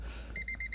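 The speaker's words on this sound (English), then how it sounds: "Got that classic beep chime." A short run of rapid, evenly spaced electronic key-in warning chimes pings over a low hum as the key is turned off in a WagoVan, repeating quickly for under a second.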